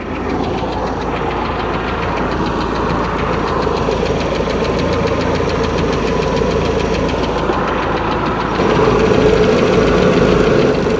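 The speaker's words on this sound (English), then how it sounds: "I've dropped that throttle all the way down to an idle" A 1967 Starcraft Holiday boat's 120 hp Mercruiser engine idles steadily with a loud, close, even rumble and light knocking, rising slightly in level near the end.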